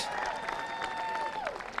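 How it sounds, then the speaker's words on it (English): An audience applauds 7th graders at an MLK Day celebration and service event, a steady patter of clapping from a crowd lasting under two seconds. "Let's give our 7th graders a round of applause here."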